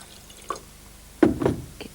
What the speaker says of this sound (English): Pour water into the glass.